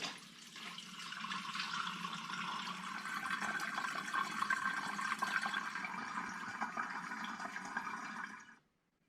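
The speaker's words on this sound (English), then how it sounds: "So if I pour this into the top of there, hopefully what will come out in the jug is going to be a nice clean liquid." A steady rush of liquid, winter liqueur at 30% ABV poured into the top of a coffee machine to filter it into a jug, flowing continuously for about eight seconds before cutting off abruptly.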